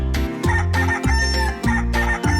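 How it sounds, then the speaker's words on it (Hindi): A rooster crows repeatedly in quick succession, several loud cock-a-doodle-doo calls overlapping one another close by. "मुर्गा गाना नहीं रुकता जब तक कि सब ना उठ जाएं।"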